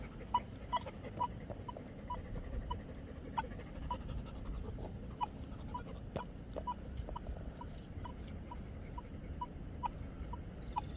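A Nokta Legend metal detector in M3 mode, deep target setting 3, sounds off over a dime buried 10.5 inches down, giving a string of short, faint squeaky beeps at a fairly regular pace over a low background hum.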